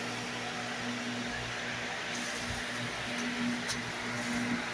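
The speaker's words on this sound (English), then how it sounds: "I turned the fan on to blow that out of here as it was getting bad" Electric fan running in a woodworking knife-making workshop, a steady hum with a constant whooshing airflow, moderately loud and unchanging throughout, alone with no talk.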